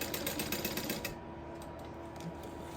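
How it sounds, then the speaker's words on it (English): A sewing machine stitches across a leather sling strap, a rapid, even mechanical chatter close up for about a second before settling into a quieter motor hum. "I'm sewing across it because this is one of your more used pieces"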